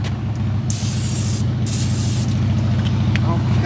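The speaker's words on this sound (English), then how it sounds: "We're going to put some cooking spray in the Dutch oven just to be on the safe side." Cooking spray hisses from an aerosol can into a cast-iron Dutch oven at a campsite in two long bursts, loud and close over a steady low rumble of background noise.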